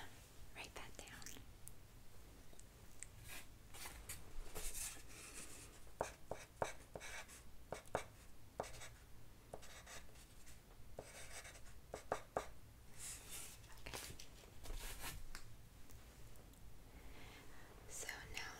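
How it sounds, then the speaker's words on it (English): Pen or pencil writing notes by hand during a calm medical cranial nerve examination roleplay: steady close scratching strokes with tapping pauses, soft and intimate, with faint whispering now and then. "Let me write that down."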